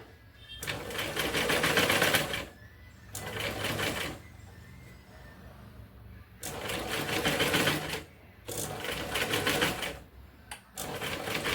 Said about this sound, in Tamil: இது கொஞ்சம் பொறுமையாக பார்த்து நீங்கள் இதை வந்து ஸ்டிச் பண்ணுங்கள்